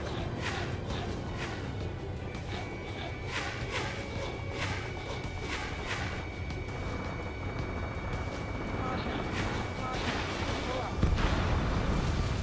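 A missile hits a ground target in the Ace Combat 7 game: dense rumbling blasts and crackling impacts over a steady jet roar, with bursts swelling near the end, while radio voices talk throughout.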